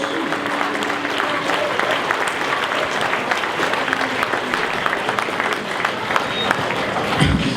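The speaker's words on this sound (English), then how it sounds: "giving him a round of applause for our chairman, Mr. Bradley Groves" Audience at a football club presentation night applauds the club chairman, a steady, continuous round of clapping filling the room at an even level, with faint crowd murmur beneath.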